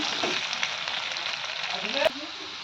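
Potatoes sizzle and crackle steadily in hot oil in a wok, a constant frying hiss with a brief clatter of utensils near the end.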